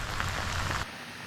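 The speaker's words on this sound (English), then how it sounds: "can you see the rain on the camera?" Rain falling steadily and close by, a dense patter that cuts off abruptly after under a second, leaving near quiet.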